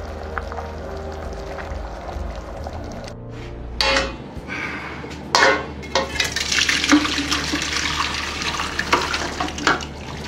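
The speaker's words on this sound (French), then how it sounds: "le jus de gibier est cuit, il ne reste plus qu'à le filtrer et à le tamiser" Cooked game stock for a wild boar terrine is poured and strained through a sieve: liquid splashes and gushes in uneven bursts, with metal clatter, after a quiet low hum.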